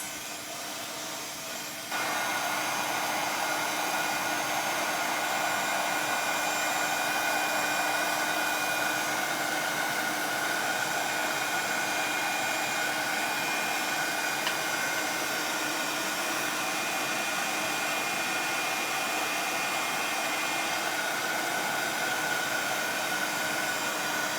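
A heat tool melts embossing powder with a loud, steady blowing whir that holds unbroken for over twenty seconds after a quieter start.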